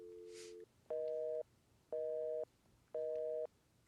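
A telephone busy signal in a Nancy Drew video game: three evenly spaced, loud steady tone bursts after a shorter lower tone, with quiet gaps between.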